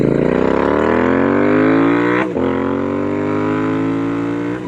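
Royal Enfield Interceptor 650 twin with S&S exhaust pipes, engine revving hard as it climbs through the gears, a quick shift dip in the middle before pulling again, loud and close with no talk.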